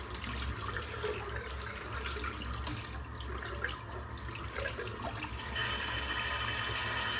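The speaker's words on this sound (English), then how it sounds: "rinse the brush out" Shaving brush rinsed under a running tap, a steady wash of water splashing continuously and fairly close, with no voices over it.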